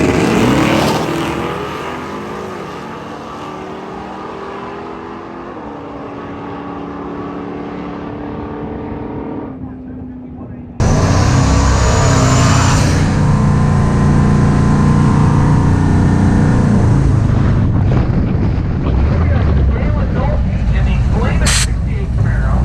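Nitrous-boosted drag race car at Alien City Dragway in Roswell, NM, hitch removed: a loud, sustained engine roar that drops briefly, then surges abruptly to a louder full-throttle blast for the rest of the run.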